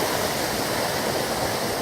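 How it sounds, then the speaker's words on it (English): Small creek near Sylvan Lake flowing steadily, a dense continuous rush of water with no pauses, close and moderately loud, with no voices. "a little creek that goes flowing away"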